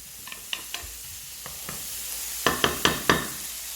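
Pancetta sizzles quietly in a pan, with soft crackling and a series of sharper spits and pops growing louder near the end.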